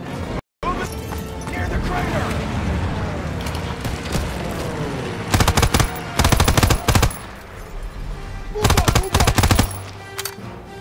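Machine gun fire in the World War II shooter Call of Duty WW2 comes in several loud rapid bursts over battlefield noise, while a player talks throughout.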